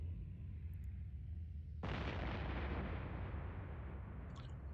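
A battleship exploding in Eve Online: after a low ambient hum, a single sudden deep blast erupts and rolls into a long rumbling roar that slowly fades, heavy and close.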